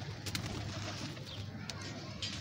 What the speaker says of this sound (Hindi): आए आपको दिखाते हैं कबूतर को।